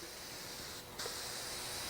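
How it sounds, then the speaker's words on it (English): A spray gun hisses briefly as it mists primer onto Solartex fabric covering, a faint, steady spray that cuts out for a moment and resumes slightly louder. "I always spray the box to get it coming out good."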